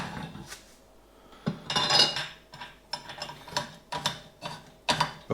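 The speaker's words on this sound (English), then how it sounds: "When the malt pipes gets fuller, it's harder to stir it in." Malt being stirred into mash water while brewing a Mosaic pale ale. Intermittent metallic scraping and clanking come through in irregular bursts, close and fairly loud, with no talking.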